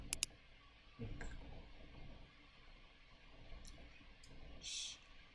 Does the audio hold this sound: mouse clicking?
yes